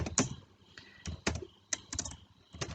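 Keys tapped on a computer keyboard while a topic name is typed, in several quick bursts of clicks separated by brief pauses, close and fairly quiet.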